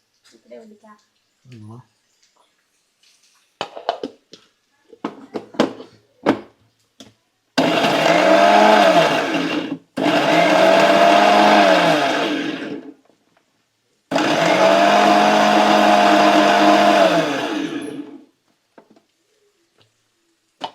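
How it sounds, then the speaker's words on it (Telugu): Kitchen mixer grinder blending green chillies and garlic, with three loud whirring bursts of a few seconds each separated by short pauses, after a stretch of clattering and handling noises. "మనం మిక్సీ పట్టుకోవాలి"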